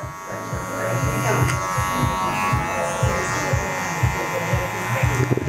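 Electric hair clippers buzz steadily while cutting a man's hair with a clipper-over-comb technique, the motor tone pulsing as strokes pass through the hair.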